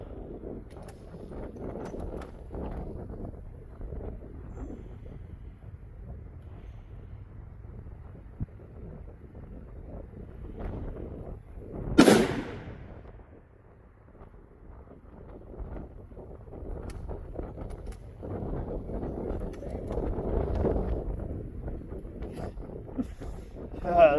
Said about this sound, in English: Ah, that's a lot of wind.